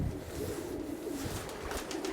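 Pigeons or doves coo in a steady low murmur over about two seconds, close and moderately loud, with faint background hiss and no talking.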